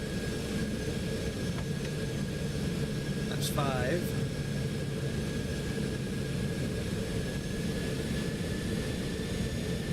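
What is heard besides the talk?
jet aircraft landing, gear down, in X-Plane 12 flight simulator (video game)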